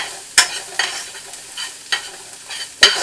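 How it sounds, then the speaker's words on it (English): Chopped onions and parsley sauteing in a pan, with a few sharp scraping stir strokes spaced about half a second apart over a soft, steady background sizzle. "Keep sauteing those onions until they turn golden brown."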